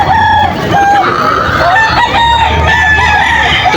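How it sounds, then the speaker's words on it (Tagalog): Young rooster, a stag, crowing at a poultry market in Bocaue, Bulacan: several loud, close crows with rising and falling pitch, overlapping with other birds clucking and crowing nearby. "Stag po, mga stag."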